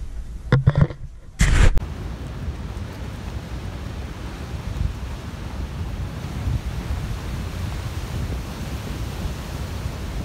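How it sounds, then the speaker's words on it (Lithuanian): Ocean waves breaking on an African shore give a steady, broad roar of surf with wind buffeting the microphone, continuous and fairly loud throughout, after a few brief knocks and bursts of handling noise at the start. "Belė kokio didžio bangos."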